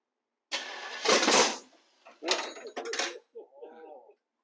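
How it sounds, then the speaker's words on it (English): An El Camino engine cranks and sputters with loud bursts, then a sharp popping backfire, followed by a short rough rumble that dies away. "That was a nice backfire."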